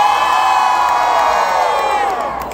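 A concert crowd at a show in Sioux Falls, South Dakota, cheering and whooping loudly in a sustained roar that eases slightly at the end.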